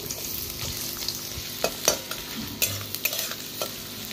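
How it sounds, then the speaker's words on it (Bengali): Chopped onion fries in a kadai as the base for a paneer gravy, with a soft sizzle under repeated scraping stirs and clacks of a spoon against the pan, close by and with no voices. "কড়াই পনিরের জন্য যে গ্রেভিটা তৈরি করব, আমি প্রথমে পেঁয়াজ কুচি দিয়ে দেবো"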